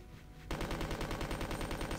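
A submachine gun in Resident Evil 2 opens up after a brief quiet moment, firing a rapid, even stream of shots that continues to the end, loud and close.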